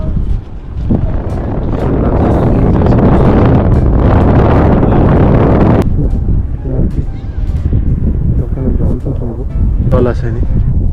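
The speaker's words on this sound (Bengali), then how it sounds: "হাওয়া দিচ্ছে," Wind blowing at the seaside at Southend-on-Sea, loud gusty buffeting on the microphone that drops away midway, with people talking over it.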